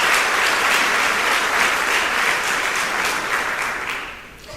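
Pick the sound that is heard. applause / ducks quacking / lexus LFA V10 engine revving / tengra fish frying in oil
applause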